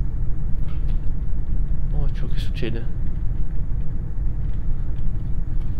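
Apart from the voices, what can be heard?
truck engine rumble in Euro Truck Simulator 2 video game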